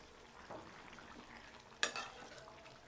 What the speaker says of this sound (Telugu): చూసారు కదా, ఈ చికెన్ చక్కగా ఉడికిపోతూ ఉంది.